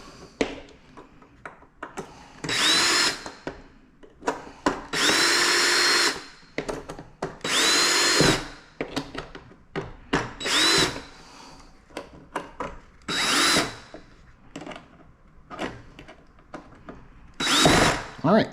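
A power drill drives screws into a Harley-Davidson King Tour Pack key latch and hinges in repeated short whirring bursts, close and loud, with tool clicks and taps between them and someone talking in the gaps.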